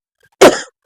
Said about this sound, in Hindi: खांसी का बीमारी पकड़ लिए